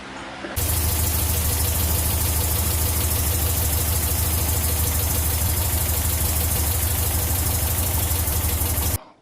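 A VW Double Cab engine starts up and runs at a steady, loud, close idle with an even mechanical chug, then cuts off abruptly at the end.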